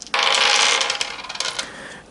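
Dice rattle and tumble during a tabletop adventure board game, a bright continuous clatter lasting about two seconds, close and with no voices.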